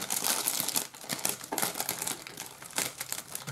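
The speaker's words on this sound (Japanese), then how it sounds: "ハサミ使って開けた" Scissors snip open a crinkly plastic bag of curry-flavoured Chicken Ramen snack, making close, irregular crackles and short sharp cuts with small pauses between them.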